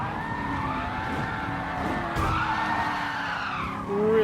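Tires skid and squeal under hard braking on a Lamborghini in Gran Turismo Sport at Spa-Francorchamps, a loud sustained screech over steady engine drone, with a sharp burst near the end.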